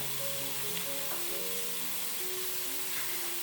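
Potatoes and celery stir-frying with salt, cumin and other seasonings in a wok, a steady close sizzle with scraping stir strokes and no talking.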